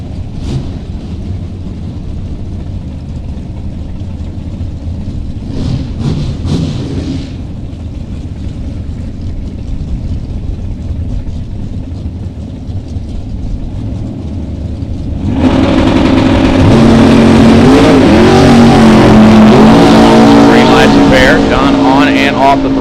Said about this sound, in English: John Liebem, the Milk Wagon, 1st gen Camaro on the right-hand side, 684 the dial, 638 the target for Leroy O'Brien over in the left lane.